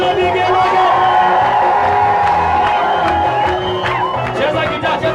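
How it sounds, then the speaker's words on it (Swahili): A church congregation at a morning service cheering loudly, with shouts, whoops and high ululation rising over the crowd noise, continuous and close throughout. "Wapi shangwe na vigelegele?"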